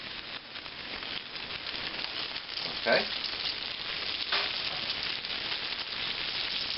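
A veal cutlet set into a pan over a medium-high flame sizzles steadily with a bright, crackling hiss, with a brief splattering flare partway through and a few quiet spoken words from the cook.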